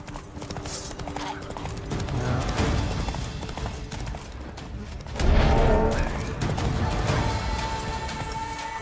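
Geralt's horse Roach gallops in The Witcher 3: Wild Hunt, a fast, continuous clatter of hooves that swells louder partway through, mixed with game sounds and background music.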